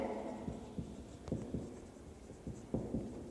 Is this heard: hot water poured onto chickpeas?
no